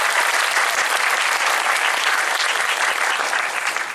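Dense, sustained applause from a cinema audience at a film preview screening in a Megabox theater, loud and even throughout without a break.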